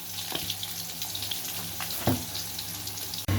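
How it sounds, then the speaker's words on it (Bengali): Potato chunks seasoned with salt and turmeric fry in oil, a bright, steady sizzle broken by a few clinks of stirring and a short thump near the end. "আলুটা একটু নুন আর একটু হলুদ দিয়ে লাল করে আলুগুলোকে আমি ভেজে নেব।"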